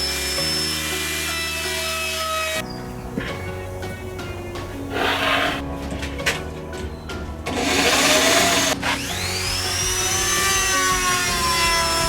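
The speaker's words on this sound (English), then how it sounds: "So it's time to cut out these locker hatches" A power tool cuts locker hatches out of the steel deck of a sailing yacht, whining and grinding loudly and close, with changing pitch, short pauses and rough scraping bursts between cuts.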